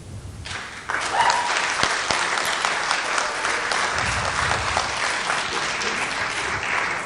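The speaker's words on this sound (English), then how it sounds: "please no clapping" Loud, sustained audience applause fills a city council meeting room, many hands clapping together for several seconds after a public comment, with a little crowd noise mixed in.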